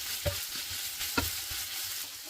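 Leftover day-old rice is stir-fried with ham in a hot pan: a dense, steady hiss of frying with a couple of sharp utensil scrapes or knocks as it is tossed, close by and with no speech.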